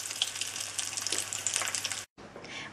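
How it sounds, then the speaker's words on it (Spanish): Salmorejo croquettes frying in hot oil, a dense, steady crackling sizzle with fine bubbling pops, close and continuous, briefly cutting out for an instant before resuming. "Ahora con el aceite caliente la vamos a echar y vamos a esperar que se vayan haciendo"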